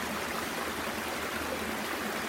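Waterfall and cascades on a forest falls trail at Domaine Mackenzie-King, a dense, steady rush of water that fills the whole scene, continuous and fairly loud with no voices.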